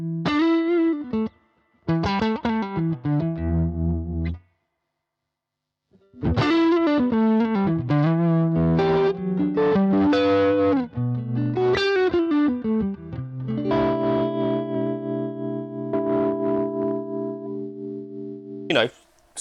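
A distorted electric guitar through a Boss amp's line out plays choppy riffs and chords with a brief pause, then settles into sustained notes before cutting off.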